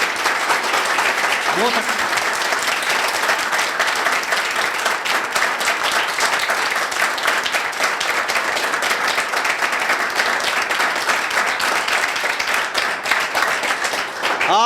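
A hall audience applauds for a teacher, giving sustained, loud, dense clapping that runs without a break throughout, while a voice speaks briefly over it.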